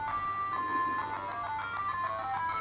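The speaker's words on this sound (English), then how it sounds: "The new speaker sounds just fine, despite the offensive music here." Tinny, beepy chiptune melody from a golf game on an original Game Boy, played through a new replacement speaker, a simple looping tune of bright square-wave notes, fairly quiet and without voices.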